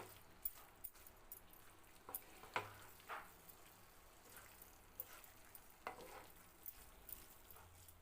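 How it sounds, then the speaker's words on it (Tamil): Maggi masala being stirred slowly through cooked pasta and Maggi noodles in a pan, with a faint, soft sizzle and scattered light scrapes and taps of a spoon, quiet and without talk. "இந்த மாதிரி மெதுவாக கிளறி விடுங்க"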